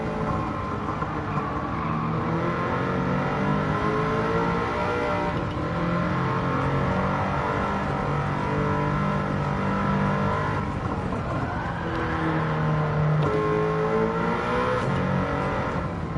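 An engine-swapped Toyota MR2 in the racing game Gran Turismo 7 revs hard and continuously, its engine note rising and falling through shifts with faint tire squeal underneath, loud and without pause.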